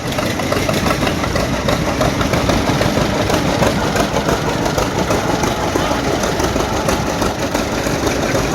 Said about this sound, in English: that's a family tractor